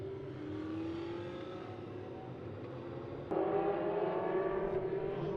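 Legend race cars circling a short oval, the Bullring at Las Vegas Motor Speedway, under a caution: a steady droning engine hum from several cars, moderately distant, swelling slightly louder partway through, with no voices.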